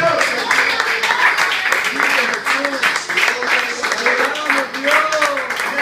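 A church congregation applauds during a Spanish-language evangelistic ministry service, dense clapping mixed with loud cheering and voices throughout, continuous and close.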